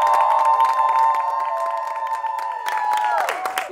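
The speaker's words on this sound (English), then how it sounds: "A round of applause for him." An audience on a news-comedy show applauds and cheers for a guest, a continuous, close wash of clapping with a few voices rising near the end.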